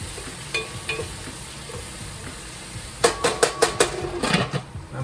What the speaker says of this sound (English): I'm back to stir it.